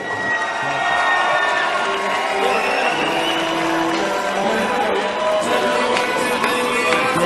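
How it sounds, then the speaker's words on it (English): A large crowd at an MMA event in Montreal, Canada cheers and shouts loudly and continuously for a fighter, a dense roar of many voices. "Great response from the crowd here in Montreal, Canada, to this fighter."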